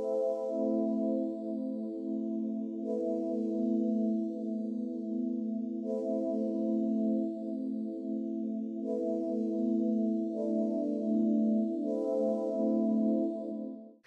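Kimura's Icarus key patch from the Karanyi Wavesynth library plays sustained synth chords that change roughly every three seconds, each with a bright attack and a warm, steady body; no talking.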